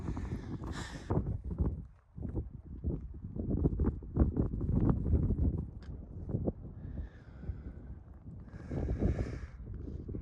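Gusty wind buffets the microphone at Forgotten Pass high in California's Inyo Mountains, rumbling and rising in waves with crunching footsteps and rustling underneath, no speech.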